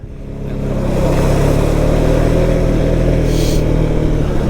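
A 2023 Can-Am Outlander 700 XT ATV pulls hard off the line, its engine building from a low rumble to a loud, steady, close drone that holds for several seconds.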